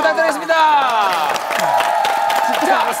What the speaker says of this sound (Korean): 다시 한 번 더 박수로 부탁드리겠습니다.